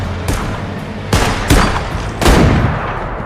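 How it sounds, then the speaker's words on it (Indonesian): Gunfire in a film shootout between soldiers: several loud, sharp shots and bursts at irregular intervals, each followed by a booming echo that rings out between them. "Dan baku tembak pun tak terhindarkan lagi akibat beberapa tentara di sana yang ingin merampok Jules"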